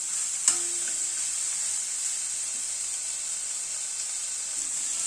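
Vegetables frying with salt and turmeric for a thin fish curry with radish and eggplant, a steady soft sizzle and hiss running throughout, with a brief stirring clink near the start and no talk.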